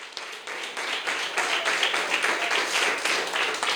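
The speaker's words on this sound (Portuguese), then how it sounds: "Vamos aplaudir o Senhor Jesus nessa hora," Church congregation applauding together, a dense, steady wash of many hands clapping that swells and holds for several seconds, fairly loud and close.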